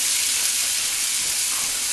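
Red cabbage from a large head cooking down in a pan in a home kitchen: a steady, bright sizzle and hiss, close and continuous, with no voices.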